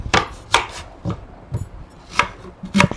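Knife chopping onions finely on a board for chicken kurma, about seven crisp separate strikes spaced roughly half a second apart, close and clear with no talk.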